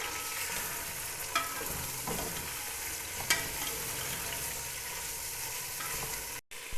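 Beef being browned in a pan for a moringa and meat curry: steady frying sizzle with a spoon scraping and stirring at intervals, close and continuous, with no talking.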